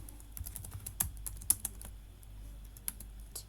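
Rapid, uneven keystrokes on a computer keyboard as code is typed, with sharp clicks in bursts over a quiet background and no voice.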